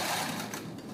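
Juki TL2200QVP sewing machine stitching, a steady close whirring hum lasting about a second.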